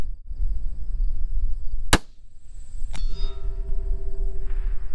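Two sharp metallic rifle-bullet impacts ring off a steel target about a second apart, the second leaving a sustained ringing tone that fades slowly against outdoor background noise.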